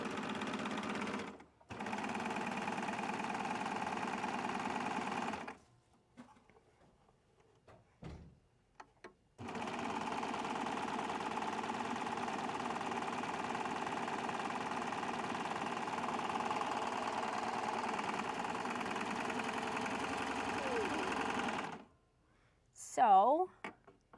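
A serger overlock sewing machine stitches a 3-thread stitch while making piping, running in long steady bursts of rapid mechanical whirring separated by pauses, with a brief voice near the end.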